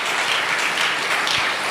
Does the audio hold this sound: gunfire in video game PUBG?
no